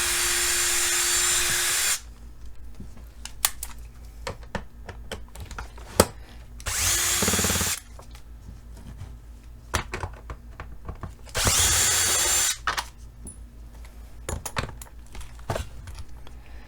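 Electric screwdriver backing Phillips screws out of a SEBO E3 canister vacuum power nozzle, three separate whirring bursts of a few seconds each, separated by quiet clicks and handling noises.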